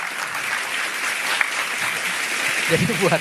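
Steady applause from a television talk-show studio audience during an Indonesian election-fraud debate, with a voice speaking over the clapping near the end.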